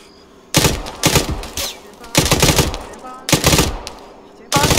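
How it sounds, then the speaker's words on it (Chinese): Bursts of automatic gunfire aimed at a squad in the combat game ArmA, loud and close, coming in several separate rapid volleys with brief pauses between them. "有僵尸在朝我们开火"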